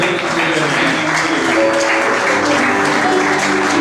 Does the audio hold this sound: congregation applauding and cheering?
yes